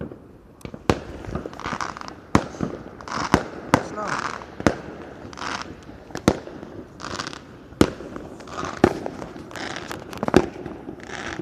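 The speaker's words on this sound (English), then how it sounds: "you can see the fireworks on the camera going off over there" Distant fireworks burst one after another in irregular pops and cracks, some with crackling tails, while people talk over and between the blasts.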